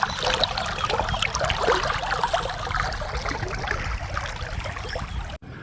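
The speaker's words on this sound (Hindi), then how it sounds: "पानी की स्पीड बहुत ज़्यादा है।" Fast-flowing water rushes steadily through a village irrigation channel, a close, continuous gurgling and splashing that stays loud throughout before cutting off abruptly near the end.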